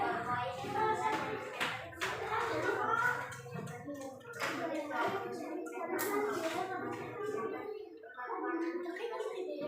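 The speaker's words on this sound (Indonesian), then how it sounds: "tepuk tangan untuk kelompoknya" A classroom of children claps for a group after its presentation, with scattered, uneven applause running throughout under a teacher's voice and children talking.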